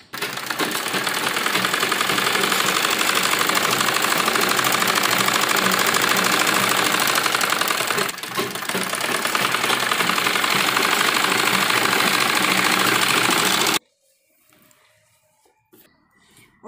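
A sewing machine stitches a seam on a baby jhabla, running steadily and loudly for about fourteen seconds before stopping abruptly, leaving faint room noise.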